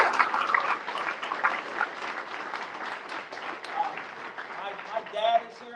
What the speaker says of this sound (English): Give a big round of applause to the firefighters here.